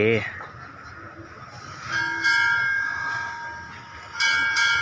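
Express train 111 pulling into a Thai railway station (Chum Saeng), with rumbling wheels and a steady ringing bell-like tone from about two seconds on, and station chatter and announcements in the background.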